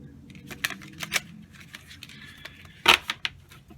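Tarot cards being shuffled by hand, a few soft riffling bursts and flicks with one sharper snap of cards near the end, close and fairly quiet with no talking.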